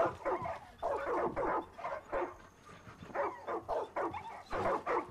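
Several dogs barking and yipping in Far Cry 5 after being let out, a run of quick bursts close by and fairly loud, continuing steadily throughout.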